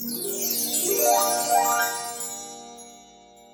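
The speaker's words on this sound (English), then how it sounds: "It's chime time." A short bright chime jingle plays as a segment cue on an NFL and baseball talk show, with rising tinkling bell-like tones sweeping upward and then ringing out and fading over a few seconds, no voices.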